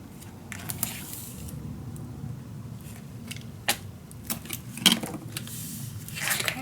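Adhesive tape is pulled and pressed onto a paper craft mini album, giving scattered sharp crackles and short tearing bursts over a quiet room hiss, with no talk.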